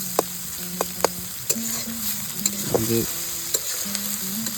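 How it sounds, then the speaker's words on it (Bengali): Onions for biryani sizzling in hot oil at an outdoor picnic cook, with sharp scraping and clanks of a spoon stirring the pot at irregular intervals. A voice speaks briefly. "বিরিয়ানির পেঁয়াজ এখন ভাজা হবে।"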